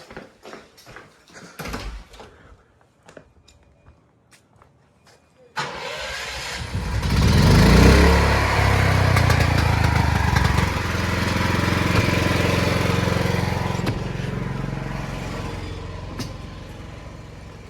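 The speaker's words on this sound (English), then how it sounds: "get our generator and that separately derived system doing its thing" A portable generator used to back-feed a house is pulled and started after several short knocks and rattles, then roars into a loud, steady running drone that continues close by to the end.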